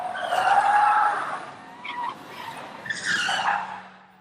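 Radio-controlled car skidding, with two bursts of tire squeal and motor whine, the first long and loud, the second shorter and sharper after a brief lull.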